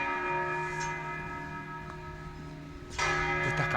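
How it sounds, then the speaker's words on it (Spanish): Church bells ring in Venice with sustained, layered tones that hum on, and a fresh strike near the end makes them swell louder. "estas campanas que suenan todo el día"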